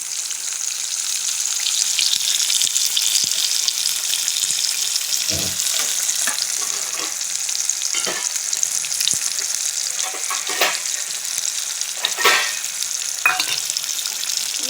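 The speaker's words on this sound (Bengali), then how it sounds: "ফিরে দিলে আর তেল ছিটকানোর ভয় থাকবে না ও নিজের মতো ভাজা হয়ে যাবে" Cauliflower pieces frying in hot oil in a home kitchen, a steady bright sizzle throughout with a few louder crackles and utensil knocks, close and alone without talk.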